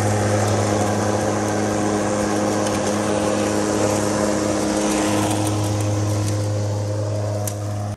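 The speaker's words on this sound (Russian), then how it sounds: "Вот такая интересная модель аккумуляторной газонокосилки Олеомаг у нас была на обзоре." An Oleo-Mac GI 48 T cordless battery lawn mower runs with a steady electric motor hum and whirring blade, loud and close, cutting off at the very end with no speech.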